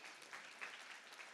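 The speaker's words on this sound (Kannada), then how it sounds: "ಮತ್ತೊಮ್ಮೆ ಎಲ್ಲ ಸಾಧಕರಿಗೆ ಒಂದು ಜೋರಾದ ಚಪ್ಪಾಳೆ" An audience applauds award winners at a state-level human resource professionals' event, a dense, even burst of clapping from many hands, somewhat distant and soft, continuing without a break.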